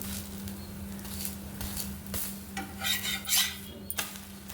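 Oats tossed with ghee in a pan are stirred and turned with a metal spoon, scraping and clinking against the pan at close range over faint sizzling, with a steady low hum underneath.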